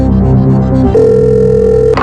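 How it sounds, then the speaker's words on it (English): Telephone ringing in a video game, a loud electronic tone with a steady held pitch after a short burst of stepped tones, with no voices. "then we better give Brian a call"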